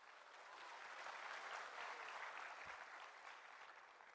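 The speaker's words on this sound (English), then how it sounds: "big round of applause." A conference audience of accountancy students breaks into applause, a dense patter of clapping that swells quickly, holds steady for a few seconds and then begins to thin out.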